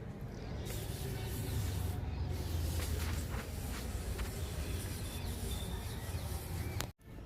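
Neem oil mix sprayed onto brinjal plants in a home vegetable garden, a steady close hissing spray running continuously with a brief break near the end.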